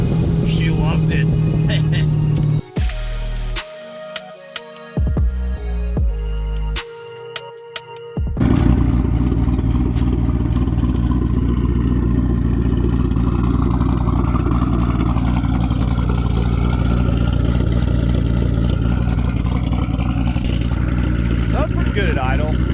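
A custom-exhausted 1200 hp twin-turbo Corvette Z06 idles loudly and steadily with a deep rumble, faint turbo whistle riding over it, and a brief quieter break partway through.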